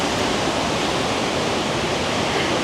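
Water rushes through a ravine stream near Loma de Blanco in Bonao, Dominican Republic, a loud, steady broadband roar of flowing water with no voices.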